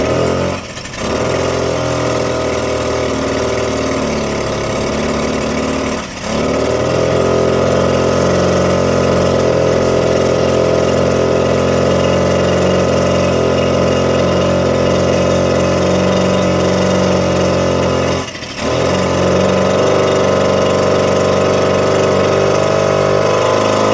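A 1979 Suzuki JR50 minibike engine idles steadily and close, a buzzy continuous putter with a few brief dips, with no voices.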